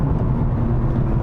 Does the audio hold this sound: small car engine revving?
yes